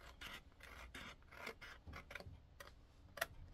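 Scissors cutting paper for a scrapbook project, a quiet series of short rasping snips in an uneven rhythm, close up with no talking.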